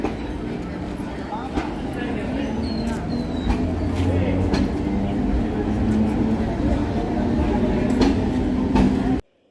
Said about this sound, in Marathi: ही लोकल आली, ही दिव्यापर्यंत जाते.